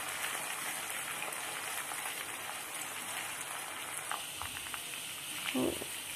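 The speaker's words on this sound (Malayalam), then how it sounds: "ഓഫ് ചെയ്ത് വെച്ചാലും ആ കറ്റാർവാഴ ഇങ്ങനെ പൊരിഞ്ഞുകൊണ്ടേ ഇരിക്കും കുറച്ച് നേരം" Aloe vera pieces frying in herbal hair oil, a continuous fine crackling sizzle like light rain, steady and fairly faint, with a few louder pops near the end.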